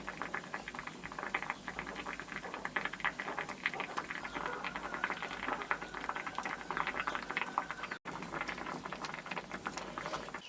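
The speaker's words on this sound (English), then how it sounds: "Allow the vegetables to cook till they are tender." A pot of vegetable stew simmers and bubbles with a steady, crackling boil, close and moderately loud, and continues alone with a brief break near the end.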